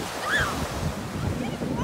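Pacific Ocean surf washing onto the shore at the West Coast, a steady broadband wash with wind rumble across the microphone and no speech.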